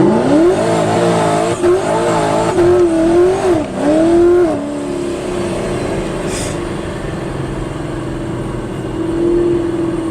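A 1000 hp Procharged Camaro accelerates hard with its tires slipping, a loud, close engine roar rising and wavering as the wheels spin, then settling into a steadier drone.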